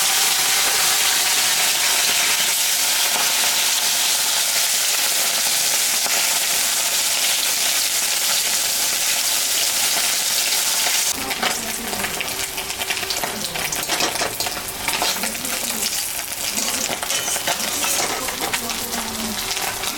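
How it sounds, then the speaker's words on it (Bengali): Fish seasoned with turmeric fries in hot oil in a home kitchen, a loud continuous hiss and crackle. Partway through it shifts to a rougher, busier sizzle with scattered pops and spatters, close up and without talk. "মাছটা ভাজা হয়ে গেছে"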